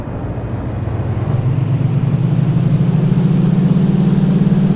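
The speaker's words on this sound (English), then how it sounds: "Line up and slowly move the throttles to full" Twin engines of a DA42 in a flight simulator throttle up from idle to full power for takeoff, a steady droning hum rising in pitch and loudness over a few seconds, then holding strong and close.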